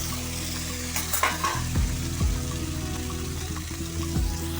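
Ginger-onion paste with dried red chillies hits already-fried onions in hot oil for a tilapia curry, giving a steady loud sizzle close up with stirring and a few scraping clunks of the spoon against the pan.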